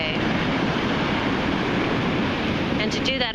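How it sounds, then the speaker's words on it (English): Ocean waves on the shore make a steady, loud broadband rush of surf that fills the whole stretch, with a slight shift near the end. "listen to the particular frequency of the ocean today"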